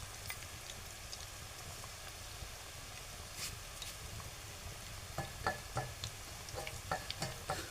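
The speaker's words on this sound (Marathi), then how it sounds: "जरा खालून शिजत येऊ देत ती भजी, मग आपण त्यांना अलटी पलटी करू." Bhaji made from colocasia leaves frying in hot oil, a steady close sizzle and crackle that runs throughout, with small sharp pops and spatters growing more frequent toward the end.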